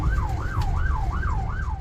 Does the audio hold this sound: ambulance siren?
yes